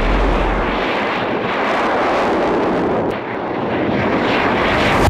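The XCOR spacecraft takes off from a runway with a loud, continuous broadband engine roar, steady and rushing with a brief dip midway, heard without any speech.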